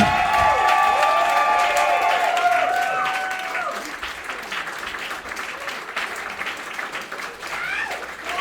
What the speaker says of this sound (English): Can you guys give me a very, very generous round of applause while I put my shirt back on, please?